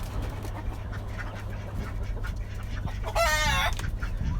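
Chickens and a white rooster in a rooftop garden give low, scattered clucks over a steady background hum, then one louder, brief call rings out near the end.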